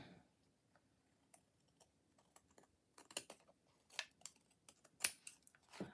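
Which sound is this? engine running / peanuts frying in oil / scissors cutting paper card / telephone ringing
scissors cutting paper card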